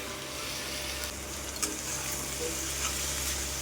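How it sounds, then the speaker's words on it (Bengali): Chicken frying in a pan with chopped ginger and tomato for egg chicken tadka, a steady close sizzle with occasional light stirring clicks, no talk. "এবার একটু ভালো করে ভাজতে হবে।"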